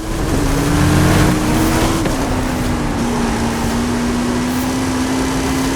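A 1,400-brake-horsepower car engine in the Forza 5 racing game holds a steady, loud droning note whose pitch creeps slowly upward as it pulls away, with no talking over it.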